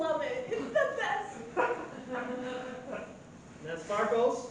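A puppy yips, whimpers and gives short barks at close range, its cries mixed in with a person talking over it.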